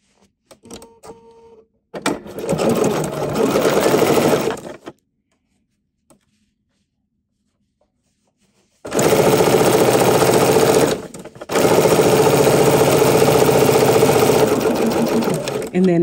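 A sewing machine stitches a quilted reversible table runner. It runs in a loud, close, steady burst of rapid stitching, falls silent for several seconds, then runs again for a longer stretch with a brief pause partway through.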